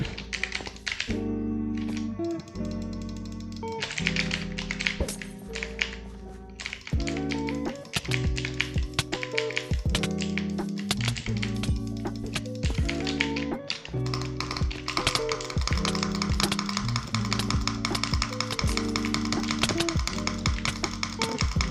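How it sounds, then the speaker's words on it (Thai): Rapid butterfly clicking on a computer mouse during a Zeqa bot duel, a dense, fast stream of sharp clicks running continuously at close range, bursting in uneven flurries with no talking. "พอบัตเตอร์ไฟคลิกแล้วแบบได้รัวๆเลย"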